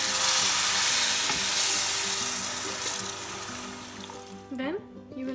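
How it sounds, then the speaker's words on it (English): Water poured into roasting semolina for suji halwa, sitting amid a loud, steady sizzle and bubbling as the mixture is stirred in the pan, with music playing underneath. "Then you will slowly start adding in the water. And make sure to mix while you are adding it in so that there are no lumps."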